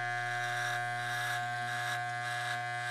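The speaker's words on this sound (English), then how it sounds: "take the clipper blade and tilt it up to make it a little bit longer" Electric hair clippers buzzing steadily while cutting a skin fade, a constant close mechanical hum with no pauses.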